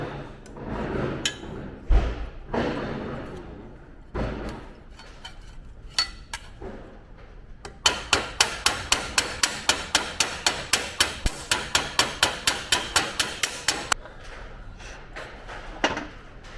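Close, sharp metallic hammer strikes on Ford Capri body panels during restoration, scattered at first, then a fast steady run of evenly spaced blows of hammer against dolly, alone with no talk.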